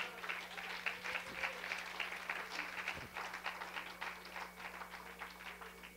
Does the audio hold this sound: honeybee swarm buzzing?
no